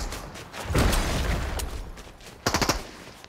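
Gunfire in Fortnite: a rapid rattling burst, then a quieter stretch, then a second quick cluster of shots, loud and close.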